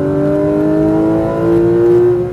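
A Porsche 911 GT3 RS accelerates on a track, its engine a loud, steady rising drone with strong harmonic tones swelling slightly toward the end, heard from inside the car without talking.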